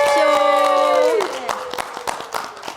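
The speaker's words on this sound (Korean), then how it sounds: "큰 박수로 환영해 주십시오" Studio audience breaks into applause and cheering to welcome a university hospital professor onto a Korean health talk show, the clapping dense and sustained while sustained musical tones sound at the start.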